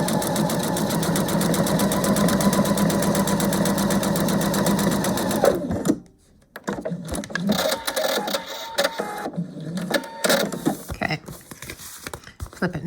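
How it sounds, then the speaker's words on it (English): A sewing machine stitches a scrappy foundation-paper-pieced quilt block in a fast, steady rapid-fire run for about six seconds and then stops. Quieter handling and rustling of the fabric follow. "Let's sew that."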